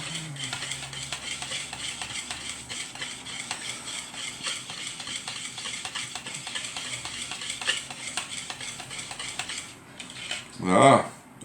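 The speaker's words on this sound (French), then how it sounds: "Et on vient mélanger." Coconut and banana cake batter is mixed in a bowl with fast, even, rhythmic clicking strokes that last about ten seconds and end with a louder knock or clatter.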